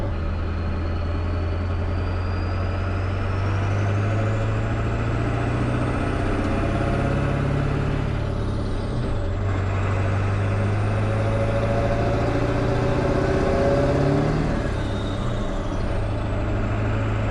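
Ford OBS 7.3 diesel truck pulling steadily under load, with a deep droning engine note and a faint turbo whine that rises and falls throughout the long stretch, with no speech.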